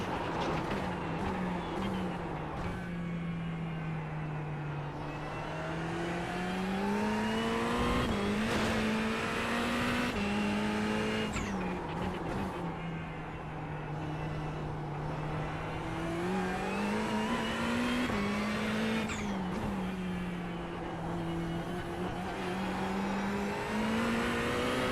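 A race car engine in the racing game iRacing holds a steady, droning tone that rises and falls gently through the gears, with a continuous close mechanical roar and no pauses.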